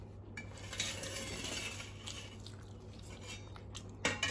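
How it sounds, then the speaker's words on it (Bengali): Chow mein noodles eaten by hand, with soft close-up chewing and mouth sounds and a few faint clinks of a plate, quiet throughout. "হাত দিয়ে খাচ্ছি।"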